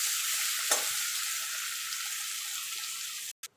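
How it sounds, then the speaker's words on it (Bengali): Chopped onions frying in a pan, a bright, continuous sizzling hiss close up with one utensil knock early on, ending in a brief cutoff and a short burst. "পেঁয়াজটা আমার লাল লাল করে ভাজা হয়ে গেছে"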